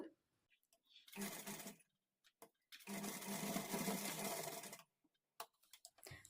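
A sewing machine stitches a hemming strip onto blouse lining in two bursts, a short run and then a longer steady whir, close and loud, with quiet gaps and small handling clicks between them.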